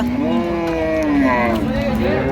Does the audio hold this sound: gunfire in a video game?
no